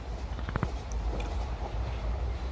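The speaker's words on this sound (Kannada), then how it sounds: "ನಮ್ಮ ಟ್ರೈನ್ ಈಗ ಹಾಸನ ಜಂಕ್ಷನ್ಗೆ ಎಂಟ್ರಿ ಆಗ್ತಿದೆ ಪ್ಲ್ಯಾಟ್ಫಾರಮ್ ನಂಬರ್ ಟೂಗೆ" Train rolling into platform two at Hassan Junction, a steady low rumble of wheels and carriage noise with a few brief clanks near the start, heard from on board.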